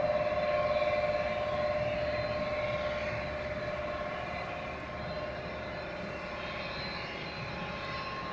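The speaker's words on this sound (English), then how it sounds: "the Swiss A330 arriving from New York JFK" A Swiss Airbus A330 arriving at Zurich Airport from New York JFK makes a distant, steady engine roar with a whining tone that slowly fades, heard alone against outdoor air.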